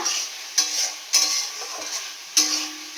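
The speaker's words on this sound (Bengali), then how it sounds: "আমি এর মধ্যে আলুগুলোকে দিয়ে দিচ্ছি। আলুটাকে দিয়ে একটু মশলাটাকে কষাবো।" Potatoes fried with spices for shol fish kalia make a steady close sizzle, broken by a few sharp scraping stirs of a spoon against the pan. No one speaks.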